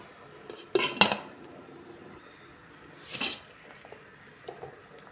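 Metal pot lid set back on a pot of simmering mackerel soup, two sharp clattering clanks close together followed by a softer rattle a couple of seconds later, with faint kitchen ticks and quiet bubbling between.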